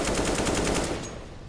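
Rapid automatic gunfire on de_cache in a professional Counter-Strike match at DreamHack, a close, tight burst of shots that cuts off and fades after about a second.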